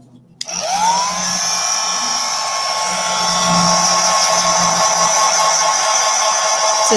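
A hair dryer switches on with a sharp click and blasts at a painted craft pot. It makes a steady, loud, hissing whir that continues unbroken for several seconds.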